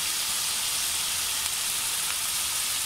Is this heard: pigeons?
no